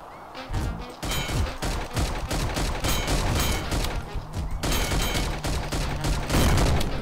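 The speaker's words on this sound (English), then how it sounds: "what the hell was that explosion?" Dense, continuous gunfire and blasts from the first-person shooter game Milkman Karlson pound without pause at high volume, rapid overlapping shots forming a sustained barrage.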